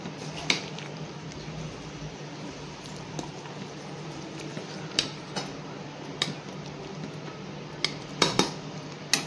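Mutton and potato curry is stirred in a pot, a low simmering bubble with scattered light clinks and scrapes of a spoon against metal, a few sharper taps toward the end, no voices.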